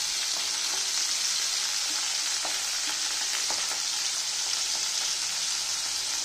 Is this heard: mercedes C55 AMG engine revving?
no